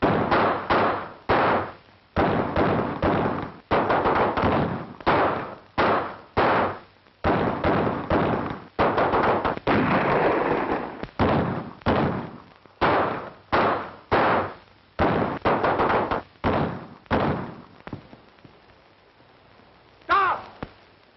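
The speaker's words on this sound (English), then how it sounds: "Stop firing!" Gunfire rings out during an ambush in a Western, as sharp shots repeat in rapid, roughly regular bursts with brief gaps, loud and close before thinning out near the end.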